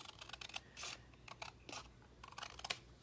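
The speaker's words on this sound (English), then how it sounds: "all you want to do is just take your scissors" Scissors snipping a paper tag freshly cut on a Brother ScanNCut, heard as a series of short, crisp clicks and snips in a quiet room, with several separate cuts spaced irregularly.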